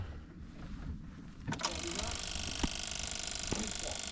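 A cold Peugeot Citroen 1.9D diesel engine is cranked after a glow-plug change: quiet shuffling at first, then the starter kicks in abruptly and the engine catches into a steady, close clattering run with a few sharp knocks.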